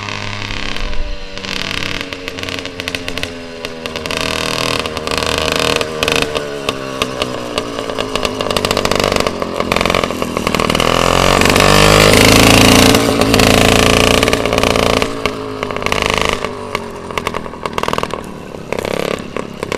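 A small 66cc OCC Stingray chopper motorbike engine runs close by, loud and rough and misfiring, its revs rising and falling with an uneven, sputtering beat.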